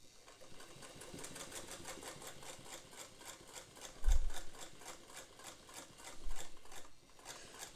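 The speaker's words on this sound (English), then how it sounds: "I'm moving that machine really slow, and I can even do some back tacking." Sewing machine stitching slowly on its longest stitch with some back tacking, giving a steady, evenly spaced ticking rhythm of needle strokes with a couple of louder low thumps, close and alone.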